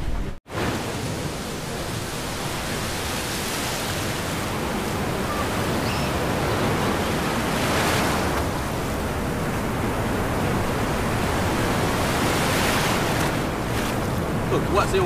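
Strong ocean surf at Logok campsite during the monsoon, a loud, continuous roar of breaking waves that swells and eases, with wind buffeting the microphone.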